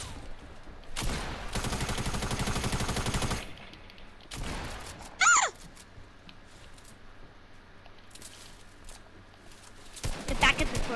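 Weapon fire in a PS4 shooter game, a long dense burst of rapid gunfire followed by sharper blasts and scattered shots, with players talking over it.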